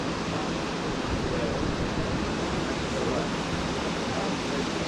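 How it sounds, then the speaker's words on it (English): Dense, steady wash of noise from waves breaking along the Baltic Sea shore under an overcast sky, loud and continuous with no distinct breaks, heard without voices. "as the waves hit the shore, it's like a wave at the Jersey Shore"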